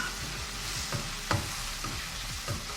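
Sabudana khichdi with boiled potatoes fries in a pan with a steady, close sizzle, broken by a few soft scrapes of stirring.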